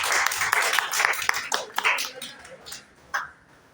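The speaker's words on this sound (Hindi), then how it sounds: "रामा कुमारी के लिए हम लोग जोरदार तालियों से स्वागत करेंगे" An audience at a school award ceremony breaks into scattered applause that is loudest at the start and gradually thins out, ending with a single late clap.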